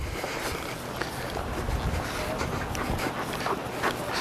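A police K9 dog pants during a school obedience demonstration, with quick, soft, continuous breaths that stay fairly faint against background noise.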